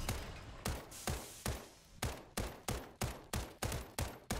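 Pack-a-punched weapon fire in Modern Warfare 3, a rapid run of about a dozen loud, sharp gunshots in a steady rhythm, each with a short decaying tail, heard alone.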